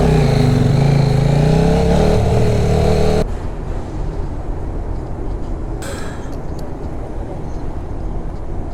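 KTM RC8 R motorcycle with nearly 40,000 on it, its engine droning loud and close for a few seconds before dropping to a lower steady rumble that continues to the end.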